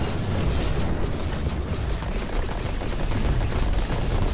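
Weapon fire in the futuristic racing video game Pacer, a dense, continuous stream of rapid blasts and booms mixed with engine noise, loud and unbroken throughout.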